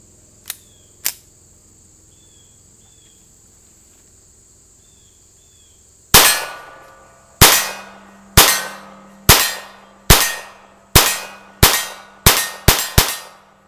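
A Ruger 22/45 .22 pistol fires at hanging steel targets: after two faint early clicks, about ten sharp metallic pings ring out at a steady pace, each with a short ringing decay, growing quicker toward the end.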